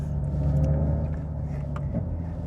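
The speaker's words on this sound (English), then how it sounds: "There's even a little rally pop on the downshift. It's a really fun show effect." Hyundai IONIQ 5 electric car playing its simulated engine sound while driving, a steady low synthetic drone that swells and then dips as it downshifts, heard from inside the cabin, loud and continuous with no talking.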